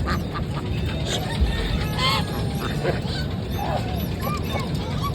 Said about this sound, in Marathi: या ठिकाणी बदक आहेत